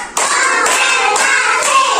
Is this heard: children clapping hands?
yes